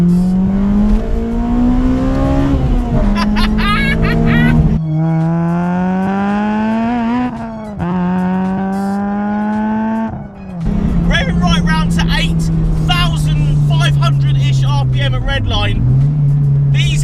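A naturally aspirated Honda Civic FD2 Type R engine revs hard to redline through rising harmonics, climbing in pitch repeatedly as it sweeps up through the gears, loud and close with a brief dip between pulls.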